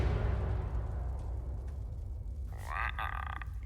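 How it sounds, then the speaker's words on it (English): A frog croaks in an Avatar: The Last Airbender episode, low repeated grunting croaks over a rumbling ambient bed, with a brief brighter tonal sound near the end. "The frog got the last word."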